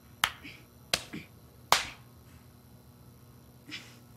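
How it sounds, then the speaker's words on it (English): Weak, limp slaps in a scene from the TV show Atlanta: three sharp, thin smacks in quick succession, then a softer fourth one after a pause, close and dry. "the slaps sound like a wet fish. Like, just the weakest little slaps"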